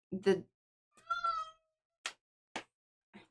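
A cat meows in several short, separate calls at close range, with one longer tonal meow and a few brief chirps, separated by silence.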